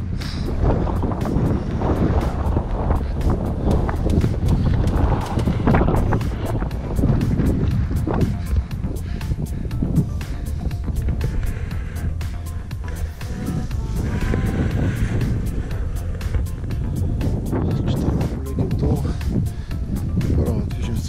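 Gusty wind buffets the microphone on the 2540 m summit of Solunska Glava in Macedonia, a continuous low rumbling roar with uneven surges throughout.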